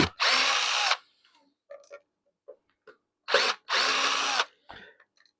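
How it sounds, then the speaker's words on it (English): An electric screwdriver undoes screws on a Minelab Gold metal detector in a workshop, giving two loud whirring bursts of about a second each, separated by soft clicks and handling noises. "Make sure you always use electric screwdriver, otherwise you'll be there for 10 minutes undoing screws"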